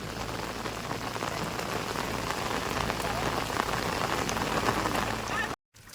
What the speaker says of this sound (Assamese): এতিয়া পথাৰ পাই গ'লে আকৌ যিটো বৰষুণ দিছে